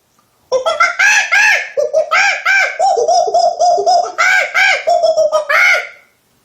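A monkey chatters in excited, laughing hoots, a loud close series of rapid rising and falling calls running for about five seconds with brief pauses.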